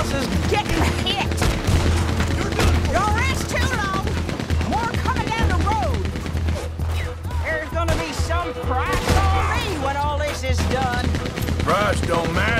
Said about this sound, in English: Yeah, we're taking fire. They keep firing like that.